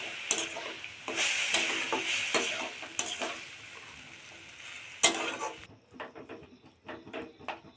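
Carrot and semolina fry together in a pan for a sweet pitha, giving a steady close sizzle broken by stirring scrapes, then softer, sparser stirring noises near the end.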